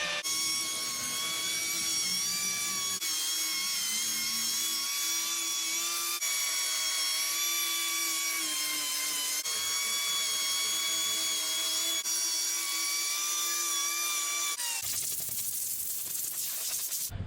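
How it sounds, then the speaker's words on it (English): A sanding disc on a power tool smooths a chainsaw-carved wooden ghost, whining continuously at high pitch with steady loudness, its tone shifting slightly every few seconds as pressure changes, then rougher in the final seconds. "I'm going to work on just getting everything nice and sanded, rounding my ghost, cleaning up chainsaw marks"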